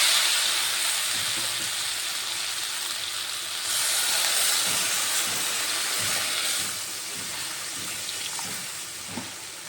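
Water hits a hot pan of fried pointed gourd, setting off a loud, steady hiss and sizzle that stays close and continuous for about ten seconds, fading slightly near the end.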